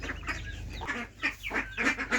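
A black hen and a white hen cluck in a village yard, several short soft clucks coming close together in an irregular rhythm, moderately near and fairly quiet.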